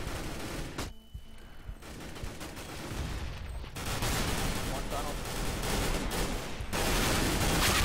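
Gunfire in a video game, with rapid bursts of shots and automatic fire that continue loudly for several seconds and get denser near the end.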